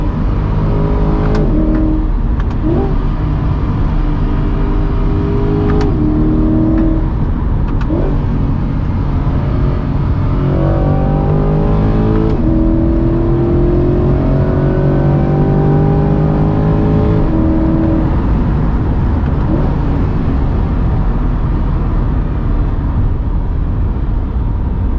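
A Corvette C8 engine pulls hard on the road, its loud, steady drone rising in pitch through repeated upshifts, heard close from inside the car with no talking.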